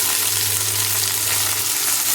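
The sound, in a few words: capsicum and onion frying in a pan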